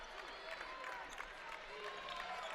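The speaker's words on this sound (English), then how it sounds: "Shocker crowd gives those two guys a nice hand as they exit" A college basketball crowd gives two departing players a steady round of applause, dense clapping from a big arena audience at a moderate distance, with commentary talk running over it.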